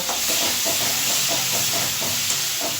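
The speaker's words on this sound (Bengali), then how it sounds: "এক টেবিল চামচ টমেটো সস দিয়ে দিচ্ছি হলুদ গুঁড়ো এটা দিয়ে এবার আবার কষিয়ে নেব" A spice paste with tomato sauce and turmeric fries in a pan for a Rupchanda pomfret fish curry, giving a loud, constant close-up sizzle and hiss with faint stirring and no voices.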